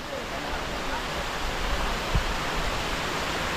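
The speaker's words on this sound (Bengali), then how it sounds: "অনেকক্ষণ ট্রেকিং করার পর আমরা চলে এলাম ঝর্ণার প্রথম ধাপে" Khoiyachora waterfall, reached at its first tier after a hill trek, gives a steady, quiet broadband rush of falling water with no breaks and no talking.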